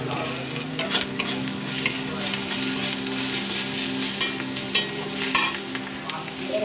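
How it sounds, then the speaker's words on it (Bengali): Turmeric powder is stirred into onion masala with ginger-garlic paste frying in a pan: a steady close sizzle broken by scraping stirs of the spoon, with no voices. "এর মধ্যে আমি একটু হলুদ গুঁড়ো দিয়ে দেবো।"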